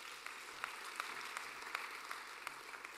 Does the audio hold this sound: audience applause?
yes